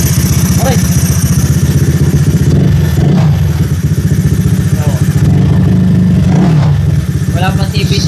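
Honda Click 190cc scooter fitted with BRT Indonesian racing parts, its engine held at a loud, close, buzzing idle with repeated throttle blips swelling the pitch, while voices talk intermittently over it.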